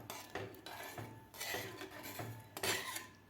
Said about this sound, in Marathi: तर व्यवस्थित हलवून घ्यायचं आपल्याला.